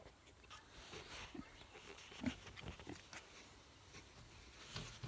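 Pigs on a small farm snuffle and grunt faintly at close range, with soft rustling and low background noise and no clear voice.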